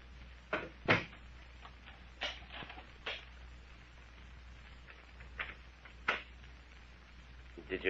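Several knocks and thuds of doors being shut and locked in an old radio drama, spaced irregularly and moderately close over a low background hum.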